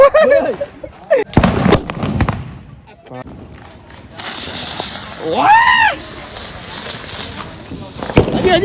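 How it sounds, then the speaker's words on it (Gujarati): Several sharp firecracker bursts crack in a quick cluster, with another pop later, while people talk and shout outdoors between the blasts. "અહીંયા એક જગ્યાએ ફટાકડા ફૂટે છે"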